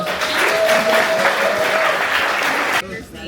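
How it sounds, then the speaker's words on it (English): Warm applause for a graduating MFA class, a dense burst of clapping from a crowd that cuts off abruptly near the end. "A nice round of applause for the MFA class."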